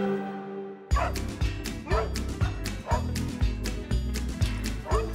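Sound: dog barking

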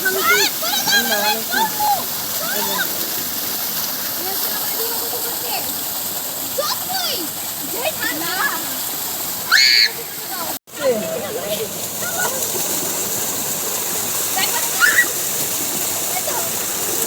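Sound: water gushing from a deep tube-well pump during bathing

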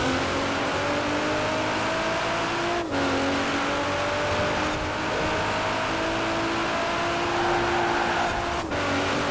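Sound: Nissan GTR R35 launching at drag start, Forza Horizon 4 game

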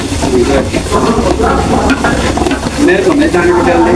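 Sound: stirring food in a pan on the right side

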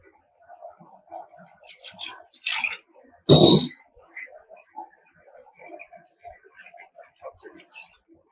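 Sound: water added to coconut masala for village kuzhambu

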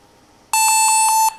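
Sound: barcode scanner beeping

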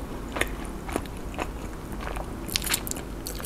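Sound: biting into a cheese corn dog

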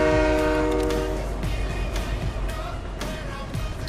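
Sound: train passing in video game Fortnite

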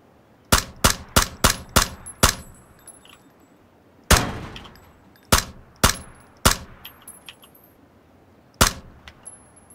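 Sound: gunfire in the video game PUBG

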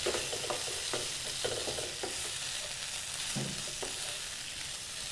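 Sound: stirring coconut powder into potato cabbage curry

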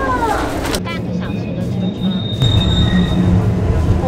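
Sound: Alishan forest railway train running on old tracks

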